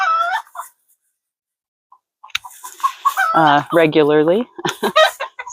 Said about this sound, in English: my little rooster, who loves to be in almost every video that I do